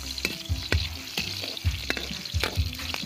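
Garlic and onion sautéing in a pan for squid adobo, a close sizzle punctuated by regular sharp spatula knocks and scrapes, no talking.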